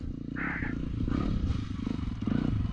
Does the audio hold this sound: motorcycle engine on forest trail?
yes